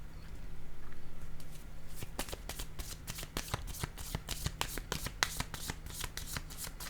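Tarot cards riffle-shuffled and then laid down, a brief soft hum before a quick run of crisp, close card slaps and flicks, with no talking.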